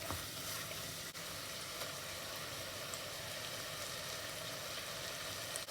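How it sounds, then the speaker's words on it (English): Mint leaves frying in a pan for prawn biryani give a soft, steady sizzle, with faint stirring throughout and a single brief knock. "And the mint leaves. Stir a while before I add in the ground masala."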